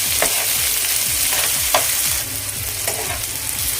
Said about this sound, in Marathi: आता टोमॅटो आपल्या इथे सॉफ्ट होईपर्यंत हे परतून घेऊया